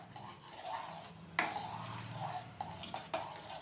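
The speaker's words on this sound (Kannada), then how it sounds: "ಈಗ ಇದನ್ನು ಎಲ್ಲ ಹೊಂದ್ಕೊಳ್ಳೋ ರೀತಿ ಮಿಕ್ಸ್ ಮಾಡೋಣ" Mango pudding mixture being stirred in a pan over low-to-medium flame, soft scraping strokes of a spoon against the metal with a few sharper clinks, quiet and close, no voices.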